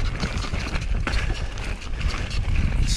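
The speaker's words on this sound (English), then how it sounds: "a bit windy, bit of a headwind." Steady wind buffeting and low rumble from a hardtail mountain bike pushing into a headwind on a forest trail, continuous and close, with no voices.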